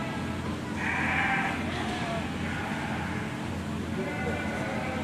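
Sheep bleat inside a birthing barn where ewes are delivering lambs, a clear bleat standing out over a steady barn hum along with softer animal sounds.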